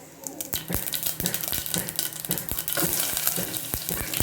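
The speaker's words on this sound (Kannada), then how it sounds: "ಇವಾಗ ಇದನ್ನು ಚೆನ್ನಾಗಿ ಮಸಿದ್ಬಿಟ್ಟು ಇವಾಗ ಒಗ್ಗರಣೆ ಹಾಕ್ಕೊಳ್ಳೋಣ" Tempering of mustard seeds, curry leaves and garlic sizzling in hot oil for sambar, a steady loud crackle with sharp sputtering pops and stirring knocks throughout, close by.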